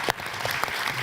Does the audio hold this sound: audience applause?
yes